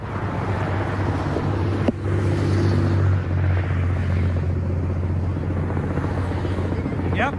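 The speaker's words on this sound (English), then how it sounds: "that's the helicopter that's following them" A helicopter trailing a truck convoy drones overhead with a steady, loud rotor rumble that persists throughout, mixed with wind buffeting the microphone and a brief sharp knock early on.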